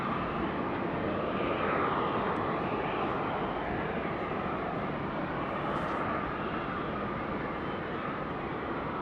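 Bamboo Airways airliner lining up on runway 16 right at Sydney Airport, a continuous distant jet-engine roar held steady and fairly faint throughout.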